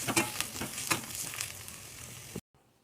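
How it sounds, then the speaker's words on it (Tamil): Onion, garlic, dried red chilli and curry leaves sautéing in hot oil for a chutney, giving a steady crackling sizzle with a few sharper pops early on, close and alone before cutting to near silence at the end. "வெங்காயம், பூண்டு, வரமிளகா, கருவேப்பிலை இதெல்லாம் சேர்த்து நல்லா வதக்கி விட்டுக்கலாம்."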